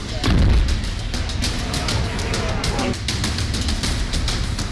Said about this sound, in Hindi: तोप से दनादन निकलते ये गोले पाकिस्तान और तालिबान की सीमा से लगी कुनार प्रांत के सरकानों की है।